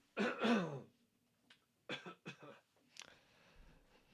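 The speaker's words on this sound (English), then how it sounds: "I got a cough here." A quiet cough, followed by a few short, soft throat clears and bursts in a hushed room.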